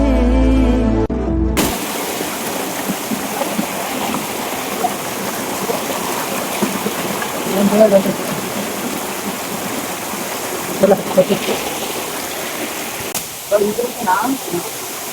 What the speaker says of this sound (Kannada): Finally reach to that falls. ಈ ಫಾಲ್ಸ್ ಅಲ್ಲಿ ಇದೇ ಫೇಮಸ್ ಅಂತೆ